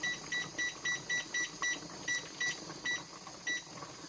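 A kitchen timer beeps in a regular repeating pattern, about a dozen short electronic chirps, while it is set for a pressure canner cooking roast beef. The beeps are clear against a quiet background hum.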